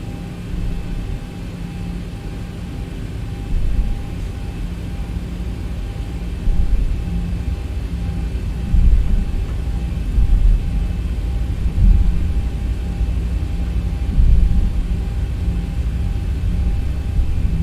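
A Zibo mod Boeing 737-800 taxis at Dublin in the X-Plane 11 simulator, producing a steady, fairly loud low engine rumble and hum with small swells, and no talk.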